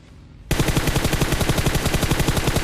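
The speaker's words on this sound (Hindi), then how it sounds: "वहां पे मैं फायरिंग करता हूँ और बंदा नॉक हो जाता है वहां पे" Automatic gunfire in the mobile battle royale game PUBG Mobile: after a half-second of quiet ambience, a loud, sustained rapid-fire burst of evenly spaced shots runs to the end, with no talk.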